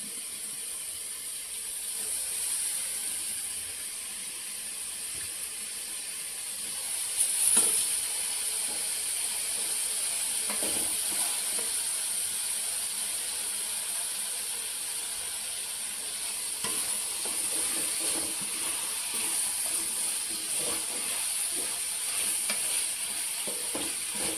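Gentle, continuous sizzling and bubbling from a pan of ridge gourd and drumstick cooking down, with occasional soft stirring clinks, no talking.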